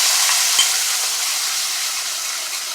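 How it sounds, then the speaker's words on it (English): A loud, continuous sizzle of curry paste frying in hot oil for Guyanese chicken curry, a steady bright hiss with one faint clink early on. "Should hear a nice sizzle, and that I'm going to add all of the curry paste"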